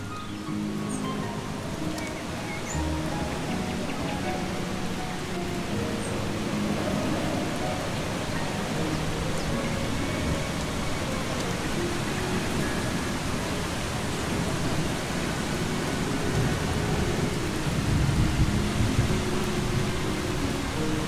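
Steady rainfall hisses across an open landscape in the game Eastshade, with low thunder rumbling up toward the end, a continuous wash of sound with no talking.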